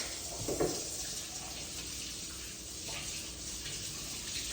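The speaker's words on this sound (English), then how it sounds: "let me wash my hands real quick" Hands are washed under a running tap, a steady splashing stream of water close by, with slight surges as the hands move through the flow.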